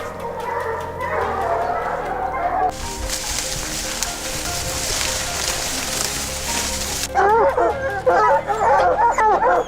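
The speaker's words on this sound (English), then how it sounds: "Once released, they dart through the woods, their howls echoing across ridgelines, their noses glued to the ground." Hunting hounds baying on a scent trail through Montana woods during a coyote hunt, loud repeated howls and barks, with a burst of broadband noise in the middle before the baying resumes.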